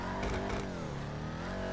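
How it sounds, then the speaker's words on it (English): A Vapid Dominator muscle car in GTA 5 revs steadily with a loud, continuous engine drone and faint crackles from its backfiring exhaust, no speech. "I like the machine gun sounding exhaust, because it backfires quite a bit while you're doing stuff"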